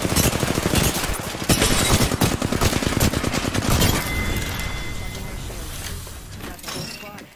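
Rapid automatic gunfire in the battle-royale game Apex Legends, dense bursts of shots crackling close and loud for several seconds before easing into scattered fire, with a player talking over it.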